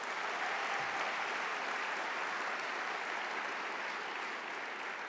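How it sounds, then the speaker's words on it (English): Steady round of audience applause at a Stanford Athletics awards ceremony, a dense continuous wash of clapping held evenly for the whole stretch without pause. "So let's give her another round of applause."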